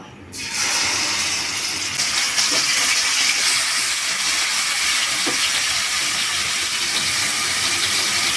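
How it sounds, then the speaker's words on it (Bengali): Ground spice and onion paste hits hot oil in a karai for a country chicken curry, bursting into a loud, continuous hissing sizzle that holds steady to the end with no voices. "তেল দিয়ে মশলাটুক সব ঢেলে দিব"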